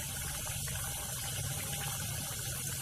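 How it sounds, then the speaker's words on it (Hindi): A steady wash of liquid noise as a spoonful of water goes into simmering chicken korma in the pan, continuous and moderately close with no talk. "तो उसमें 1 चम्मच पानी डाल देंगे।"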